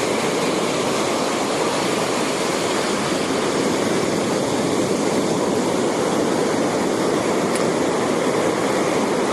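Ocean surf at Calangute Beach in Goa, India, a loud continuous roar of breaking waves and foamy water close by, steady throughout with no voices.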